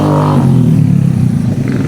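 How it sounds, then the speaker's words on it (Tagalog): A motorcycle engine runs close and loud, with a steady throbbing rumble for about two seconds at an outdoor pigeon-release spot in Jaen, Nueva Ecija. "Ayan, nakingay ng motor."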